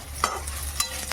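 Dried red chillies and asafoetida sizzle in hot tempering oil for dhokla as they are stirred, a steady soft frying hiss broken by a couple of sharp spoon clinks.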